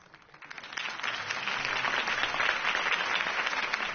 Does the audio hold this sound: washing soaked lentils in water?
no